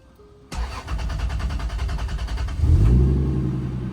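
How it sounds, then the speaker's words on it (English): A car with a 2JZ engine cranks and fires up abruptly, then settles into a steady idle that rises slightly in pitch and loudness after a few seconds, loud and close with no talking. "All right, so the car is idling way higher."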